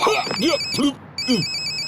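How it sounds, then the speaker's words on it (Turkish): An electronic telephone ring trills steadily, cutting out for a moment before resuming, with a person talking over it. "Aa büfecinin telefonu."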